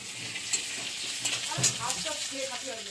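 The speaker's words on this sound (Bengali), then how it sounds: "এবার আলুটা ভাজা করছি।" Potatoes frying in hot oil in a pan for a potato, cauliflower and paneer dish, giving a steady close sizzle with a few sharper stirring scrapes and no talking.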